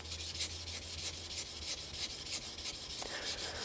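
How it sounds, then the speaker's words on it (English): A knife blade is polished on a Tajima Nakatoishi Japanese natural whetstone, giving a steady gritty rubbing and rasping scrape in quick repeated back-and-forth strokes, close and moderately quiet with no talking. "So the initial polishing feedback sounds a little rough."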